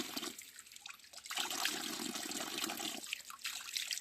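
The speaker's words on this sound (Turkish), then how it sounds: "hala su 24 saat 12 ay boyunca akıyor" Mountain spring water at a highland pasture pours steadily in a loud continuous rush, flowing alone without talk.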